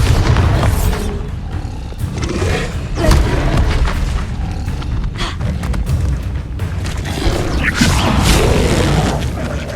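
Bombarda spell explosions blasting in Hogwarts Legacy combat, a dense run of loud, booming low crashes and rumbling impacts that roll on continuously with no pause throughout.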